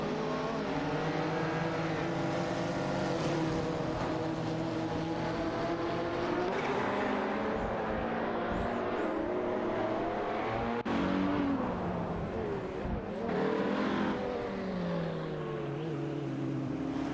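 Porsche 911 GT1 and Ferrari F40 LM race in a video game, engines roaring steadily with harmonic whine and shifting revs, other cars' engines layered over a continuous loud drone with no talk.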